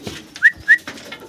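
Golla pigeons, a pair of large birds, at a farm sale give two short, close whistling coos in quick succession over a quiet background.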